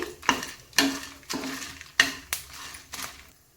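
Four or five dried red chillies fry over a low flame while a spoon scrapes and knocks a pan about six times in an uneven rhythm, each stroke loud and close over a faint sizzle.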